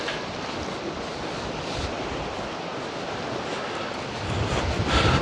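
Strong wind gusts roar across the shore of Korčula island in Croatia as waves wash in, a continuous broadband rush that swells louder near the end, with wind buffeting the microphone.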